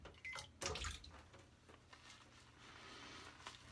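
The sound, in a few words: water being added to shave soap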